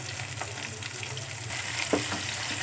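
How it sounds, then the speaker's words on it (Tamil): Onions, garlic and tomato frying in a pan for chana kuzhambu give a steady, close sizzle with occasional stirring scrapes and no talking. "நல்லா வதக்கி விட்டுக்கலாம்."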